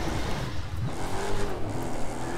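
A monster truck's engine in The Crew 2 racing game drones and revs steadily at night, a rough mid-pitched roar with a brief rising whine, close and continuous without talking.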